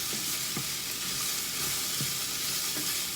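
Lobster lo mein with broccoli sizzles and hisses steadily as it is stir-fried in a pot, with a few soft scrapes and clinks of the utensil, close and with no voices.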